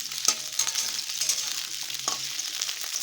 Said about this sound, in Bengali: এবারে তেলের মধ্যে দিয়ে দেবো কেটে রাখা আলুটা আলুগুলো দিয়ে একটুখানি নাড়াচাড়া করে নেব